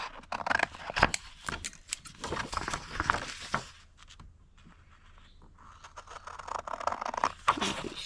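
Scissors trimming the white border off a printed paper cover for a journal, a close series of soft snips and paper rustles with a quiet pause in the middle.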